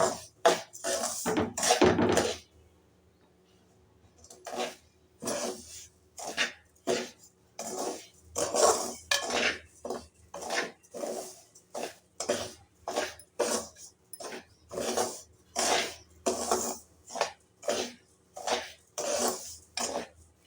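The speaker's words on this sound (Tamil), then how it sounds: "சிம்மிலே வச்சு ஒரு 5 நிமிஷம் போல் கிளறுங்க." Dry semolina (rava) is roasted on low heat for kesari and stirred in a pan, making a quick, regular run of close scraping strokes after a brief opening burst and a short pause.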